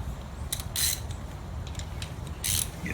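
A ratchet tightens timing chain bolts to 18 foot-pounds on an LS1-swapped S14 240SX, giving a few short, faint clicking rasps in quick bursts over a low background hum.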